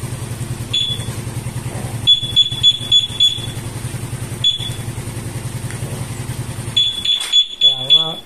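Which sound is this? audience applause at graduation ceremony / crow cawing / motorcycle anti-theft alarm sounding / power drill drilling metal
motorcycle anti-theft alarm sounding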